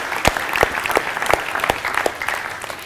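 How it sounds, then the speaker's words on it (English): Applause from a seminar audience clapping for themselves, with distinct sharp claps standing out over a thinner bed of clapping, moderately loud. "Put your hands together for yourself."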